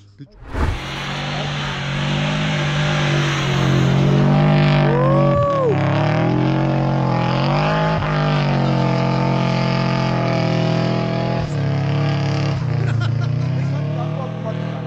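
A car with an automatic transmission and a new engine drives through snow, its steady engine roar revving and rising throughout with a loud tonal hum, while people talk over it.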